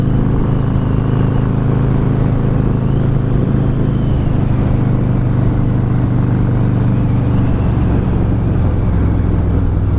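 A Harley-Davidson Fat Boy S motorcycle riding through gentle curves, its engine a loud, steady low rumble mixed with wind noise throughout, close and without pause.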